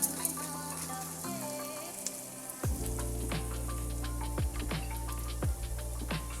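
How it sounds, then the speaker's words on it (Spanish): Noodles browning in a hot pan for a rice and noodle pilaf give a steady, close sizzle and crackle. Fat pops throughout, and the sound turns louder and denser partway through as the noodles go in. "agregamos nuestros fideos, que también vamos a poner a dorar"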